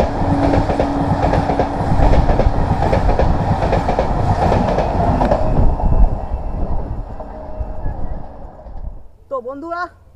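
A train passes a railway crossing at Radhamohanpur, loud and close with rhythmic clickety-clack of wagon wheels that fades after several seconds, followed by brief bird chirps near the end.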